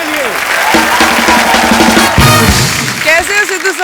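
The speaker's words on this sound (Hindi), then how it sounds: "जोरदार तालियां प्रियंका चोपड़ा के लिए" Studio audience applause for Priyanka Chopra on a comedy talk show, clapping under music and a voice, with a brief swell midway before trailing off.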